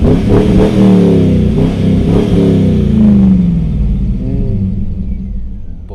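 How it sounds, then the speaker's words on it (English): A Corvette V8 with an aftermarket exhaust rumbles loudly up close, rising through several rev sweeps before settling back into a deep idle-like growl. "the rumbling V8 sound never gets boring. And even better if you put some aftermarket system on it and you rev it a bit"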